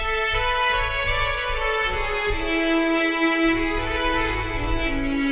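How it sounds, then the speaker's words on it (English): Sustained bowed cello ensemble tone from the stock Morphing Ensemble instrument, classic cellos patch, playing a rich, layered melodic phrase with shifting notes, loud and continuous with no talking. "this is such a beautiful quality sounding instrument, and it's called Morphing Ensemble"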